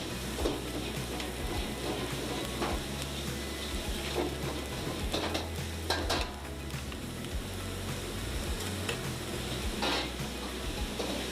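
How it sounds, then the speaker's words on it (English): Onions and bulgogi beef sizzle steadily on a hot iron skillet at a Korean barbecue restaurant, a dense continuous frying hiss with occasional scrapes and clinks of utensils close by. "this iron skillet's been sizzling, the onions go on it, and they start sizzling themselves as well"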